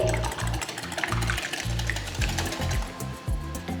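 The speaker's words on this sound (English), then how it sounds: "Just whisk it all nicely." Four large eggs seasoned with a pinch of salt and pepper are whisked in a bowl, giving a steady, fast, rhythmic beating that stays at an even moderate level throughout, with no voices.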